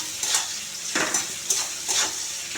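Onions frying with spices in a pan for a chicken curry, stirred in four distinct scraping strokes over a steady close sizzle.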